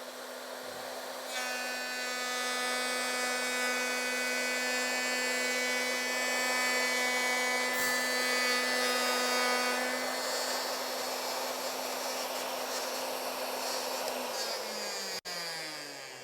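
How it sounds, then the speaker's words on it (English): A router guided along a straight edge cuts a notch into plywood with a steady, loud, high whine. It holds a constant pitch for about fourteen seconds, then winds down near the end, and no one speaks. "The base plate of the router will right up against the straight edge, and I'll bring it down 5 inches, the length of the notch"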